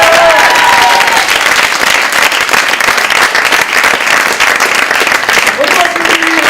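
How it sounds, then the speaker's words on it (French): Dense, sustained audience applause at an improv theatre match fills the whole stretch, loud and steady, with a few voices and cheers rising through the clapping. "On peut applaudir les docteurs."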